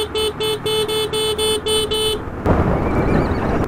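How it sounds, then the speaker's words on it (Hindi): A Honda Activa scooter on a mountain road gives a rapid series of repeated horn-like toots, then breaks into a loud, rough engine rush with wind. "गाड़ी, ऐसे ऐसे आवाज कर रहे हैं यार।"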